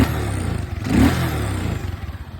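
KYMCO 125 motorcycle engine giving a short rev, a mid-pitched buzz that swells briefly in the middle and settles back, fairly quiet and close, with no talking.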